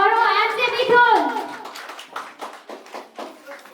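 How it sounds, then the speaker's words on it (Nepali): An audience at a dance audition in Udayapur, Nepal, claps to welcome a choreographer, a scattered burst of applause that follows a voice speaking at the start. "जोरदार तालीले स्वागत गरौँ एमजे मिथुन।"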